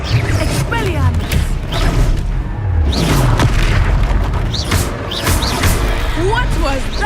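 A booming, rumbling Expelliarmus spell goes off in Hogwarts Legacy, a heavy magical blast with mechanical crunches that swells over several seconds beneath a player's voice and quick chirping game effects.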